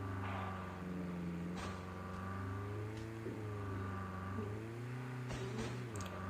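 A vehicle engine in the Call of Duty video game hums and revs steadily while driving, with pitch rising and falling in smooth tonal bands and a few clicks over a constant low drone.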